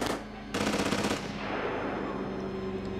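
Rapid automatic gunfire in the horror video game Outlast: Whistleblower, a dense machine-gun burst that swells loudly mid-clip and then settles into sustained rattling bursts with a steady low hum beneath, no speech over it.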